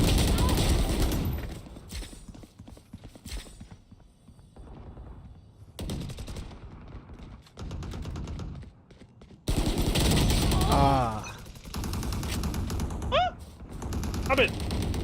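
Rapid automatic gunfire and scattered shots in a shooter video game, loud bursts broken by pauses, with people talking excitedly over the action.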